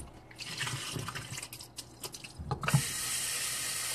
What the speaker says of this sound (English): So I'll go ahead and just get fresh water